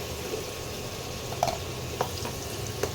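Potato pieces frying in hot oil in a home kitchen pan, a steady soft sizzle with a few light clicks and stirring knocks, moderately quiet and without any talking.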